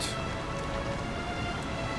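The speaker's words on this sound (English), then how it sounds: "Oh, it's raining in Rivendell." Steady, even rain hiss in the video game Lord of the Rings Online, in Rivendell, with no pauses, a soft continuous patter of drops and no voices.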